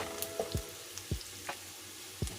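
Chopped onion and garlic sauté in a pan with a faint steady sizzle, broken by several low, distinct knocks and taps from stirring against the pan, close by, no talking.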